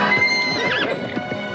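A small band of horses in a western setting whinnying repeatedly with wavering, high neighs over a soft clatter of hooves, close and lively.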